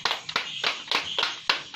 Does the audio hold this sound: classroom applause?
yes